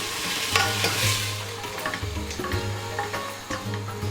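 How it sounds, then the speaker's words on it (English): Sliced onions sizzle and crackle in hot oil, browning for fish biryani, while a utensil stirs and scrapes the pan, with steady frying noise throughout. "Add more sliced onion and saute till it turns to a light brown color."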